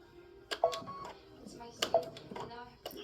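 An embroidery machine stitches until its thread gets sucked down into it. Quiet bursts of mechanical clacking and short whirring runs come in irregular clusters with brief pauses between them.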